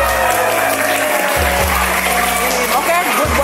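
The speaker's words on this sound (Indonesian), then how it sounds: "Tepuk tangan semangatnya dong buat gugus 4." Students clapping at a school orientation day, loud dense applause from a large group filling the whole stretch, with a voice over a loudspeaker and a low hum running underneath.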